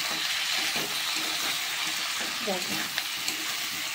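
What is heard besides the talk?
chicken pakora masala being sautéed in a pan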